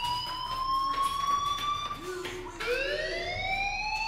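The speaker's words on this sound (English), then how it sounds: "do you hear that fire alarm? That means you should be outside." A fire alarm rings inside a school in the video game Life Is Strange, a loud, steady electronic wail whose pitch drops and then climbs again, with no talking over it.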